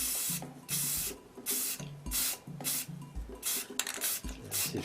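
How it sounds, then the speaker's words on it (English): Several short bursts of hissing primer from a spray can, each about half a second, come in quick irregular succession, close and fairly loud, with a faint rattle between them. "Spray a little primer on there."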